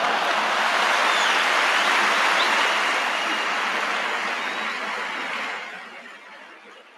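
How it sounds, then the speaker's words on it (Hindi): Dense, sustained applause from a large audience at the 1986 PTV Awards Show, loud and even throughout before fading away over the last second or two, with no voices over it. "रावलपिंडी इस्लामाबाद में सरकारी हाथों ने आज पहली दफा इतनी गैर सरकारी तालियां बजाई हैं।"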